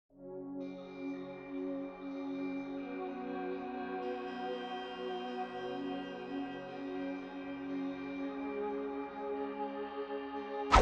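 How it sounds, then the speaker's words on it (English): A sustained, shimmering synth pad from the Expand 2 Temple Moods preset in FL Studio swells in softly and holds steady, with layered tones ringing evenly and no voices present. "For the second pad, we're using Expand 2 Temple Moods preset, and this is what it sounds like."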